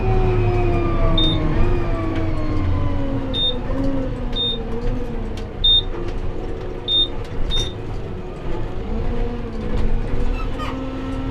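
A Kubota M135 GX2 tractor's gearbox whines in rising and falling tones while shifting over a steady engine drone, with short high beeps recurring every second or so.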